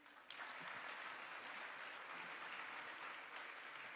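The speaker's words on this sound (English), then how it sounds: "let's give a round of applause to Ms. Ralin Shah" Audience at a business and investment summit clapping steadily after a speech, a dense, even wash of applause that starts abruptly and holds for several seconds.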